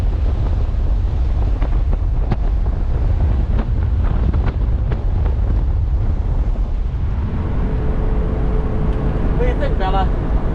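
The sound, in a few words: wind blowing at Holtville hot springs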